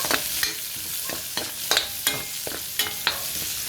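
Onions frying in a pot for pochero, with a steady sizzle and a spoon scraping and stirring at irregular intervals, close and moderately loud, no voices.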